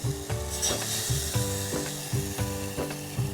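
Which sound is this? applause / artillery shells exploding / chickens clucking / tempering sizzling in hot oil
tempering sizzling in hot oil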